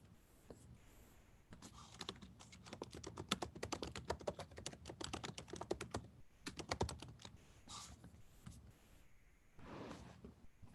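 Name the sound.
typing on a sticky computer keyboard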